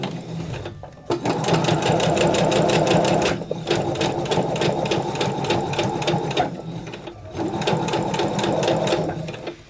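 Close, loud bursts of a sewing machine stitching fabric flower petals, three long runs of rapid rhythmic clatter separated by short pauses.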